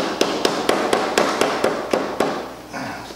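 Hammer tapping the corners of an arcade cocktail cabinet kit during assembly, about ten sharp evenly spaced knocks close by, alone without talk.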